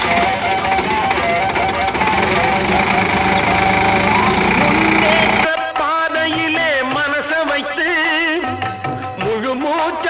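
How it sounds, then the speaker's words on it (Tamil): A Sonalika DI-47RX tractor engine runs loud and steady on a farm for about five seconds before music takes over. "இதான் நம்ம டிராக்டர் சோனாலிக்கா DI-47RX."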